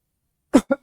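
Silence, then three short coughs in quick succession, close and fairly loud.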